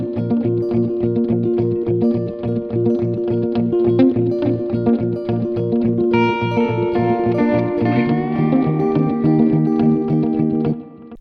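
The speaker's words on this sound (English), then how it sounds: "So I did 4 guitar parts on this track, and they sound like this together." Four electric guitar parts layered together, played through built-in Soundtrap effects with the guitar plugged straight into a computer via an audio interface; steady rhythmic chords loop continuously, with brighter sustained lead lines entering partway through, loud and close.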